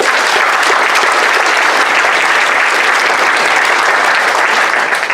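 A full audience in a live event hall breaks into steady, dense applause that stays loud and even throughout, with no talking over it.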